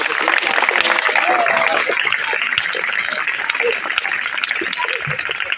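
A group of students at a school gathering applauds, a dense, steady wash of clapping that fills the space with scattered laughter and chatter mixed in.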